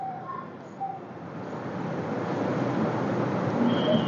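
Soft pigeon coos and scattered bird calls rise over a dense, steady market-like background noise at an open-air pigeon and poultry market in Brahmanbaria, growing slightly louder toward the end.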